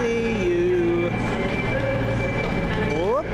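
A British loco-hauled train with class 90 and class 57 locomotives runs on the line, giving a loud continuous rumble with whining, shifting tones and a rising squeal near the end.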